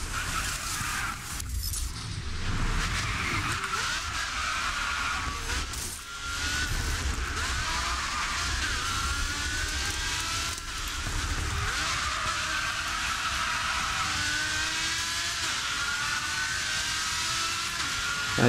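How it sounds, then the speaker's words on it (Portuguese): Car drifting on tires in the GRID 2 racing game, with a steady loud engine drone and skidding texture sustained throughout, a brief dip near the middle and another around six seconds. "Aqui é assim, a gente faz drift com um carro"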